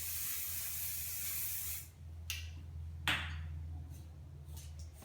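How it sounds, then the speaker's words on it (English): Hairspray spritzed onto hair in a steady hiss for nearly two seconds, followed by a couple of short bursts, close and fairly soft over a low background hum. "you can spritz with a little bit of hairspray"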